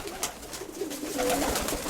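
Pigeons in a loft coo in low, soft throaty rolls, several birds overlapping over a few seconds, moderately close with light background noise and no talk.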